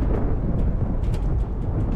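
A bombing explosion in the video game Black Mesa, a heavy, sustained low rumbling boom that fills the whole moment, loud and close with no talk over it.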